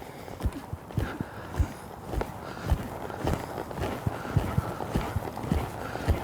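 A horse lopes in a circle during flying lead changes, its hoofbeats thudding in a steady rolling rhythm on soft ground at moderate distance.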